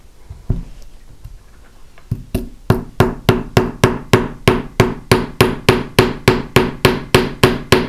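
A hammer strikes a rivet head on a metal disc bracelet, starting with a few scattered taps and then settling into a steady run of sharp, evenly spaced blows, close and loud, with no talking.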